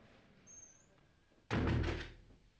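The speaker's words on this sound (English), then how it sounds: "that awful moment when the door bangs behind you" A heavy prison cell door in an old jail bangs shut with one loud, booming slam and a rattling tail that fades over about a second, after a faint squeak and quiet room tone.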